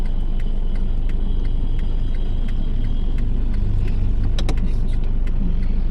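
A car pulls away slowly during a driving lesson in the city, its engine a steady close rumble with interior cabin noise and a few faint clicks, no talk over it.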